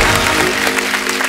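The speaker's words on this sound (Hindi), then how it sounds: "अब आनंद मिलिंद जी के लिए डबल तालियां हो जाए।" Applause from a comedy show audience, a dense, loud wash of clapping that carries steadily through the whole short stretch without voices.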